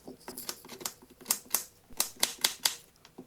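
A knife chops potatoes into small pieces for an Indian vegetarian dish, giving a quick run of sharp, crisp taps on a board in an uneven rhythm, close and fairly quiet.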